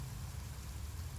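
Steady rain falling in the Genshin Impact game world, a dense even hiss with low rumble, continuous and close throughout with no voices.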